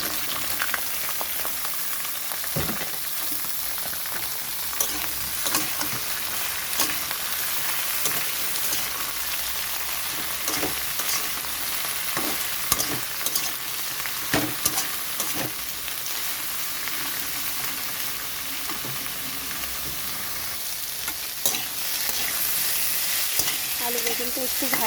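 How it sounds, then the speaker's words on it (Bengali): Potato and eggplant chunks fry in a pan with onion and green chili, giving a loud, even, crackling sizzle for nearly half a minute. Frequent small stirring clicks and scrapes sit on top, with no voices. "আলু বেগুনটা একটু ভাজা হয়ে গেছে,"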